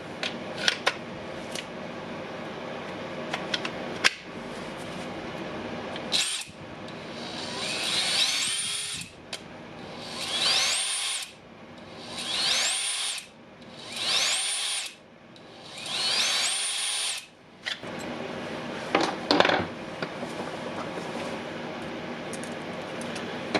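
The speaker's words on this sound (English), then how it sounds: "The motor spins nice." A DeWalt cordless drill with a faulty transmission runs its motor in five bursts of high whining spin, each rising and then stopping. Between the bursts come clicks and handling clatter at close range, with no talking.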